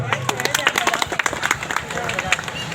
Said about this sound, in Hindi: चलो तालियां करो।